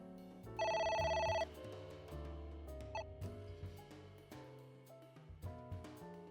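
A phone in the game AI: The Somnium Files rings with a bright electronic trill in one short burst over quiet game music and ambient tones.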